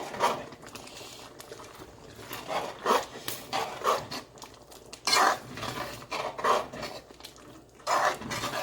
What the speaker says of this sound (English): I'm going to add my scallion, my thyme, and a pepper. I'm going to stir it.